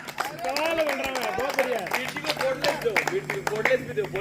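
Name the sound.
audience clapping for poet Balram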